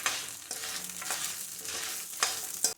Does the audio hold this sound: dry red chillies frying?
yes